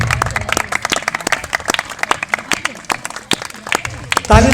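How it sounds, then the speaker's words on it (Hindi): At a village award ceremony honoring a senior community member, an audience claps in a steady, crowded ripple of applause. A voice speaks over it, and the clapping continues throughout. "ताली बजाने में कोई कंजूसी नहीं करेंगे।"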